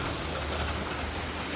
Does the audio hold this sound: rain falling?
yes